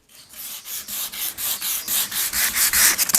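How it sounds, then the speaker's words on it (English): Epoxy powder coating is hand-sanded with 150-grit sandpaper in quick, rhythmic back-and-forth strokes, a close, raspy scratching that pulses about four times a second and grows slightly louder, with no voices. "I'm sanding the epoxy coating or powder coating rather with some 150 paper"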